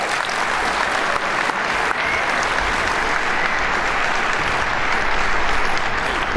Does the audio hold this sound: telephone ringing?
no